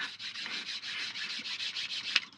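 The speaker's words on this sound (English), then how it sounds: "Okay, I'm burnishing this down" A burnishing block rubs back and forth over a glued model rocket part, a quick series of soft, rhythmic scraping strokes close to the microphone, about a dozen passes.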